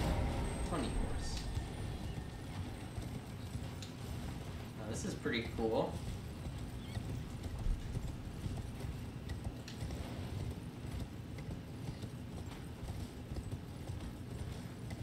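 Rhythmic hoofbeats of a horse galloping in the video game Elden Ring run steadily through the background, layered under game effects and a streamer's talk.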